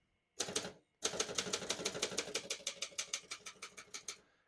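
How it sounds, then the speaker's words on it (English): A 1961 Optima Super manual portable typewriter clacks close up: a couple of strikes, a brief pause, then a fast, steady run of keystrokes that fades slightly toward the end. "We're going to keep that on single for now and finish typing."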